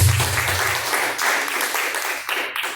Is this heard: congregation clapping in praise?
yes